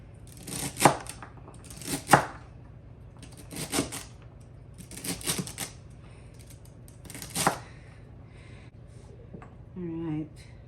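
Knife chops through an onion on a board, a Pioneer Woman kitchen knife making about six sharp, spaced strikes, each a crisp broadband tap, with a short voiced sound near the end.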